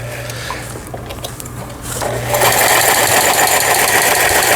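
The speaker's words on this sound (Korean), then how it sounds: "옷감의 밑부분에 하고 페달을 밟아서 박음질을 해보도록 하겠습니다" Lion HD1000 sewing machine stitching fabric under pedal control: a quiet, hesitant start gives way to a loud, steady, rapid mechanical whir and clatter once the pedal is pressed down, with no voice over it.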